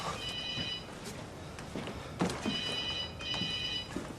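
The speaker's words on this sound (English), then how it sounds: "Phone's ringing" A telephone rings in two bursts of electronic trilling indoors in a flat, fairly faint beneath a muffled room background and a few light knocks.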